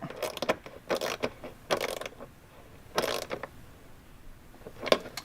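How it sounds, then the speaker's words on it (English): Ratchet wrench with a 10mm socket tightening a bolt on a mudflap bracket for a 2024+ Can-Am Maverick R, heard as several short bursts of rapid clicking separated by pauses, close up and moderately quiet. "take your 10mm socket and fully tighten that down"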